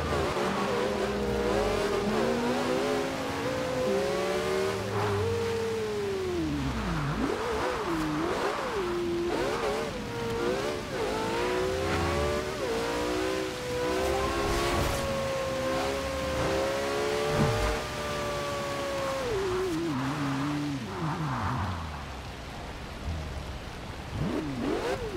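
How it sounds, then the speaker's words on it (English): A blue carbon-fiber Porsche 918 tuned to 1450 hp revs in Forza Horizon 2, its exhaust rising and falling through repeated throttle blips and sweeping pitch climbs, loud and close, with a crackling rasp over a deep drone and no talk. "I'll let you guys hear the exhaust a little bit"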